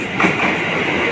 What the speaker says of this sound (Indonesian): Ini ada KRL komuter lain masuk lagi.